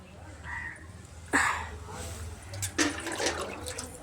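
Two short splashes of water poured onto plants nearby, a steady gush then a second pour, over faint background murmur.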